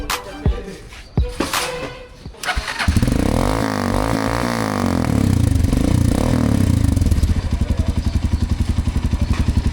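A Honda XLR motorcycle fitted with a new exhaust sits close by. After a few sharp clanks it fires up into a loud, throbbing idle and revs a little, then settles into a fast, even chugging beat.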